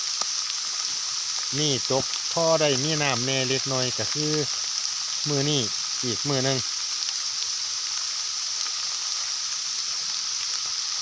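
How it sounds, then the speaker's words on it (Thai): Rain keeps up an unbroken, moderate hiss around a rural pig pen being built among rubber trees, with someone speaking in short bursts over it. "ฝนก็ยังตกยังลิ้น"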